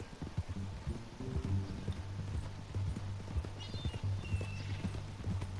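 Horse hooves clip-clopping steadily with a neigh in the Red Dead Redemption 2 video game, the rhythmic hoofbeats continuing throughout with ambient game sound underneath.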